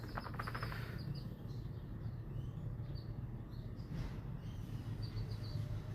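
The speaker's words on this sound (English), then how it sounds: "those birds have been all over my garden now" Small birds chirp in a home garden, faint, scattered tweets over a quiet low background hum, with a few brief bursts of calls spaced across the clip.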